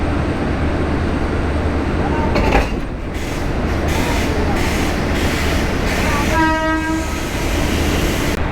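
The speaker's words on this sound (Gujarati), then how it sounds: "જો ધીસ ઇઝ માય ટ્રેન." A train on the Delhi Sarai Rohilla to Bhuj service stands at Gandhidham railway station amid a loud, steady rail rumble and station din. A few metallic clanks come through, and a sustained train horn blares near the end.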